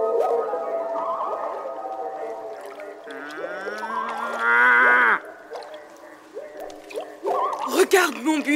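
A buffalo moos in an animated French jungle story: a long, low, drawn-out bellow in the middle of the scene, loud and close, set among other voices and cartoon sound effects.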